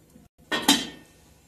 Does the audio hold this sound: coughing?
no